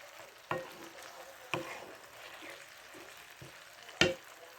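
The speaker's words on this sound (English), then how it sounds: "Going to stir in our tomatoes." Chopped tomatoes stirred into a one-skillet meal on medium-low heat: a steady low sizzle with a few sharp clacks of a utensil against the pan, heard alone.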